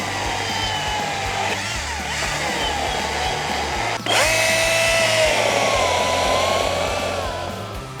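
An Echo DCS2500 battery chainsaw with a 12-inch bar and 1/4-inch chain runs nearby, giving a steady high electric whine with a brief dip and a surge of revs partway through.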